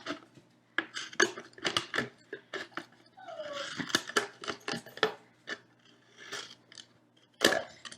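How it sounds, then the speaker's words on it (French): Scissors snip and crunch into a plastic bottle in a series of sharp, irregular clicks and crackles, close up and fairly quiet, with brief plastic scraping between cuts. "avec les ciseaux, c'était plus facile après, une fois qu'on a fait notre trou"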